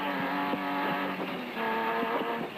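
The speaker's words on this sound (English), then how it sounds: "The hills and normally rustic farms of the Lesotho countryside were reverberating to the sound of high-tech deep-voiced engines, such as the SP Class Ford of Woolridge" A rally car engine roars past during the Lesotho Sun 400 race in the Lesotho countryside, loud and close, with rising and falling revs as gears change.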